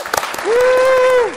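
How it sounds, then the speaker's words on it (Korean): An audience at a talk with a railway high school graduate claps briefly and unevenly, with a sustained high vocal whoop or cheer rising over the patter midway. "코치님들도 박수 한번."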